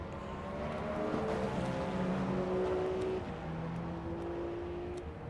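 Continuous droning racing car engine hum in the game Le Mans Ultimate, endurance race at Sebring, with shifting tones rising and falling, steady and moderately loud without pauses.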